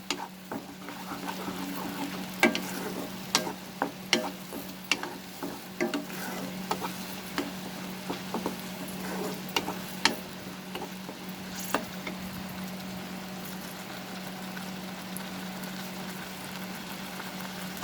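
Onions sautéing over a raised flame in a pan for an egg curry, a steady sizzle with repeated sharp scrapes and clacks of a spoon stirring, close and with no talking.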